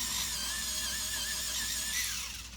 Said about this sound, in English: So I just like to sharpen them a little bit. So we're gonna sharpen.